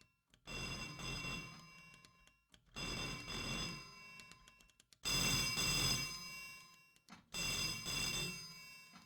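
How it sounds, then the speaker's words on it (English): A telephone bell rings in four long bursts with short pauses between them, loud and near, a bright metallic trill with no voices over it. "I just want to answer the phone."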